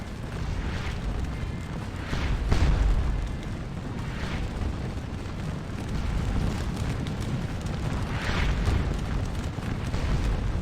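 Booming artillery cannon fire from a Napoleonic battle video game set at Wavre with Prussians against French, heard as steady low rumbling with several louder muffled blasts and no talk.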